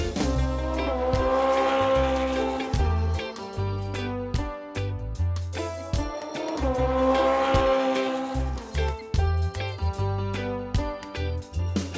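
A motorcycle engine runs loud and close, its pitch rising and falling in repeated revving surges, with no voices.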